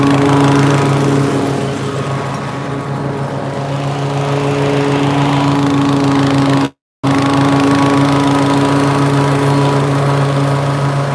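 Walk-behind lawn mower mowing grass, its steady engine drone loud and close, cutting out to silence for a split second before resuming.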